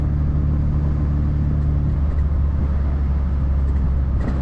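A 1965 Triumph TR4A convertible driving with the roof off, its engine a steady low rumble mixed with road and wind noise throughout, close and continuous.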